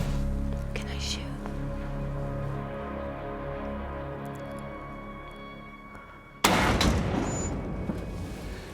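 A single sharp rifle shot during a deer hunt, sudden and loud after a stretch of quiet outdoor murmur, followed by lingering noise.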